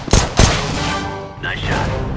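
Two sharp, loud gunshots from a Counter-Strike style first-person shooter ring out in quick succession near the start, followed by brief in-game voice chatter.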